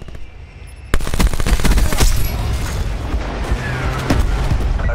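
Call of Duty Black Ops 4 artillery ground attack: after a quiet lead-in, a sudden loud boom opens a sustained barrage of rapid gunfire and repeated explosions that continues heavily to the end.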